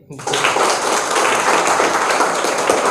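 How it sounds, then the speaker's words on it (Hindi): Government school students clap for their teacher in a dense, steady burst of applause that starts abruptly and holds loud throughout, with voices mixed in. "एक बार सर के लिए थोड़ा आप लोग ताली बजा दीजिए।"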